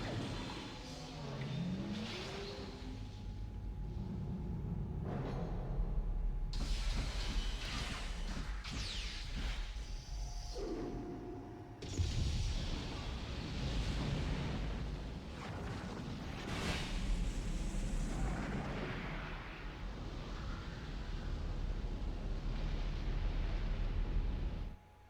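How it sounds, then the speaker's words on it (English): A video game explosion from Xenogears rolls out in a long, dense roar with bursts of rushing, crashing noise, loud and sustained with a couple of sharp surges. "Struck a critical point and caused it to explode."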